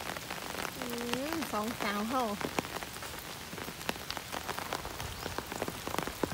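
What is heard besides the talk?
rain falling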